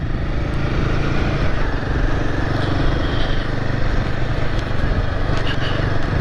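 Royal Enfield Himalayan 450 motorcycle engine running while riding, a steady, unbroken drone at even loudness throughout with a rushing wind-like layer.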